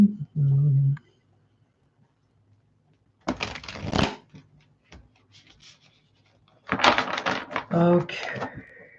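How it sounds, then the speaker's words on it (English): Tarot cards being shuffled by hand in two bursts of dry riffling and papery flicking, close by, separated by quiet pauses, with a brief hum of a voice at the start. "let's get these ones shuffled"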